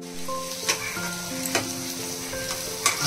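Potatoes sizzle in hot oil with whole spices (cumin, garam masala, cloves, cinnamon and cardamom), a close, steady frying crackle with a few brief stirring scrapes.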